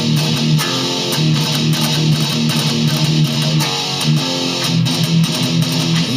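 Heavily distorted electric guitar chugging a riff with full power chords, a dense, loud, continuous wall of palm-muted rhythmic strumming with regular accents.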